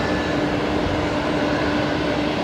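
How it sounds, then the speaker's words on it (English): An Emirates Airbus A380 taxis between stands at Brisbane Airport, a steady broadband engine roar with a faint tonal whine holding level throughout, distant and continuous with no voices. "The A380 moving from Bay 71 to Bay 75"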